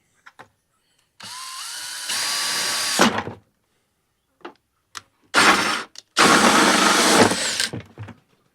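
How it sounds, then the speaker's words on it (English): A power drill whines in bursts as it drills into a bucket, one long run followed by two shorter ones, loud and close, with brief taps and clicks between. "This drill bit works just fine."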